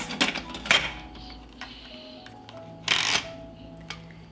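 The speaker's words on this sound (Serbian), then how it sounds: "Zatvaram ekspres lonac" A pressure cooker lid is closed with a few sharp metallic clanks and scrapes, two louder clatters separated by quieter ticks and rattles, close and without talk.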